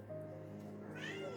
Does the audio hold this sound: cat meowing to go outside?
yes